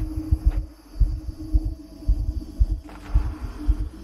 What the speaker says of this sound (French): Le battement de cœur dans les oreilles